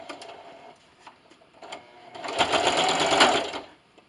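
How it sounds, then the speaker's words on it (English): A domestic sewing machine back stitching a quilted glasses sleeve, first with a few short ticking bursts, then a steady mechanical whir of stitching that stops abruptly, with no talking. "Meet you over at the sewing machine."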